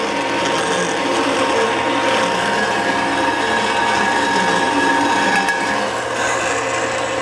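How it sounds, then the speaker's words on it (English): Valve seat cutter grinding into a cylinder head valve seat, a continuous close chattering scrape with a steady ratcheting texture and no breaks, loud and alone. "I'm going to put a little bit more pressure on it and allow a little more cutting to happen"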